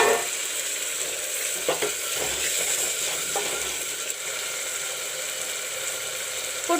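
Jeera, garlic and black pepper paste with onion paste sizzling in a pan for matar sabji, a soft continuous fry with occasional scraping stirs and clinks.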